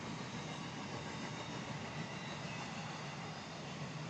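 An intermodal freight train rolls past near Waycross, a steady, fairly distant rumble of railcars with faint clatter of wheels, continuous throughout and without voices.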